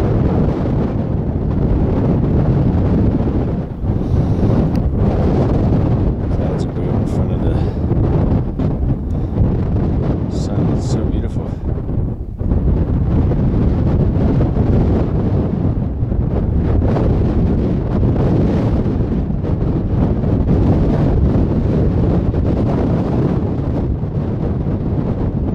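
Strong wind roars continuously across the microphone on the summit of Mount Rainier, a loud, steady rushing buffet with no talk.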